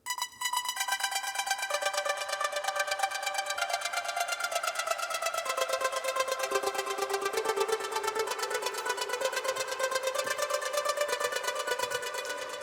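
A synthesizer patch played through Ensemble, with bright, busy, rapidly pulsing tones that repeat in a steady sequenced rhythm. The notes sweep slowly upward in a long rising figure and play alone at moderate volume for the whole stretch.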